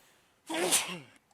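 A single sneeze bursts out near the microphone, loud and breathy, lasting about half a second and rising sharply before trailing off into quiet.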